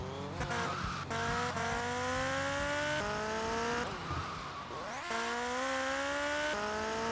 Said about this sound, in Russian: Ну что ж, хватаем тогда вот этот мотоцикл.